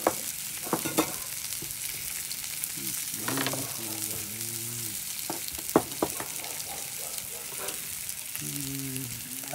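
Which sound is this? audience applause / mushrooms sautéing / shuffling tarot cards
mushrooms sautéing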